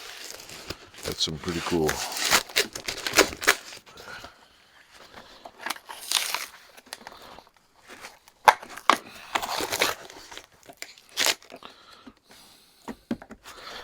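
Ripping and tearing of packaging around a KURT vise, with bursts of crinkling, scraping and pulling noises interspersed with pauses and someone talking between the tears.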